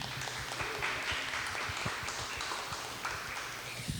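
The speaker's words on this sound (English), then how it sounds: "S.A Grant, give him a big round of applause." A round of audience applause greets a guest on a podcast, steady clapping from a small crowd that holds through the moment at moderate volume.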